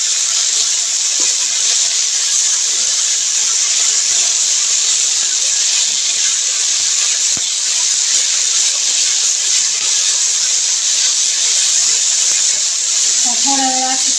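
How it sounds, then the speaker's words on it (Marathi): Fenugreek leaves sautéing in a pan for methi bhaji, giving a steady, even sizzling hiss that runs unbroken from start to end at close range. "थोडा वेळ असंच आपण परतून घेऊया"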